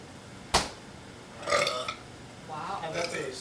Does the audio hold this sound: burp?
yes